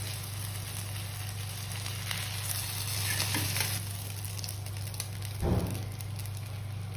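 Sardines frying in hot oil in a pan with curry leaves, a steady loud sizzle throughout with a brief stronger crackle near the end, no talking.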